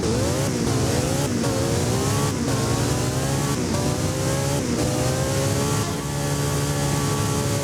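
A Porsche 918 accelerates hard in the Driving Empire racing game, its engine revving loud and continuous. Pitch climbs and drops repeatedly as it shifts through gears, with no talking over it.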